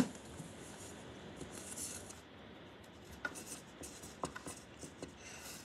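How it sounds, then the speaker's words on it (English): A pen writes on a piece of tissue with soft scratching and rubbing strokes, close by and quiet, with a few small taps in between. "So I'm just gonna write my name on a piece of tissue."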